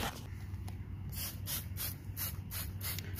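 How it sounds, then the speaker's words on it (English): A water spray hoses dirt and grime off a lawn mower outdoors, a close, steady hiss that pulses in repeated bursts as the stream sweeps back and forth. "Spray it off. Get some of this dirt and grime off of there."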